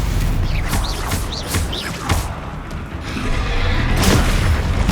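A Bombarda explosion spell from the video game Hogwarts Legacy bursts with loud, deep booms, several blasts rumbling in close succession over dense in-game noise.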